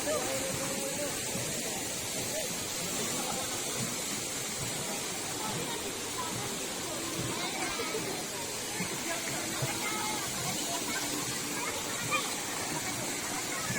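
Water rushes and hisses steadily at a cold spring bathing pool, a dense continuous wash of flowing water with no breaks, close and fairly loud throughout.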